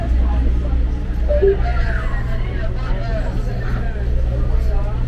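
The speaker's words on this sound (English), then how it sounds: "We're on the train." A moving tourist train bound for Machu Picchu in Peru rumbles with a low, steady hum, while passengers chat softly throughout the carriage.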